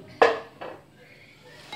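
A utensil knocks against a mixing bowl while orange juice and grated orange rind are stirred into cake batter: one sharp clink, a softer second tap, then quiet scraping and a faint final knock, with no talk.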